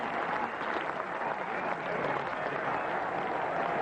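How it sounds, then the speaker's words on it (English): Old Trafford cricket crowd at a 1992 England versus Pakistan Test match giving a batsman a long, steady round of applause, a dense wash of clapping heard from a distance with no pauses. "The Old Trafford crowd will give him a huge reception."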